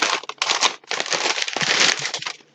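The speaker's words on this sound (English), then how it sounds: "I'll put this in a Ziploc bag and then I'll reuse this Ziploc bag for a long time." A plastic Ziploc bag crinkles loudly and close up as brown sugar is packed into it, dense crackling bursts with short pauses between them.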